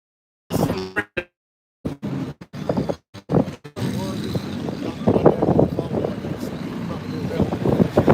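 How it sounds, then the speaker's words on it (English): Strong gusty wind buffets the microphone at a race track, a rough, roaring rumble that starts in short bursts and then blows steadily, with people talking over it. "Dude, this wind is crazy."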